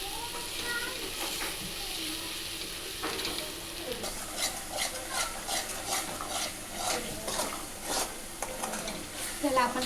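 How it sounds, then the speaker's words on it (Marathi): Chicken masala base with chutney, whole spices, masala and turmeric is sautéed in oil, a close sizzle with rhythmic stirring scrapes and light clinks of a spoon on the pan. "आपण याला परतून घ्यायचं आहे"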